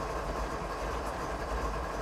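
A CSX locomotive in Train Sim 2015 rolls forward with its brakes off, giving a steady, loud low rumble of engine and wheels that holds constant throughout, with no voices over it.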